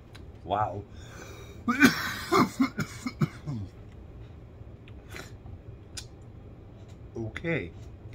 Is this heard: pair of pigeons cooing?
no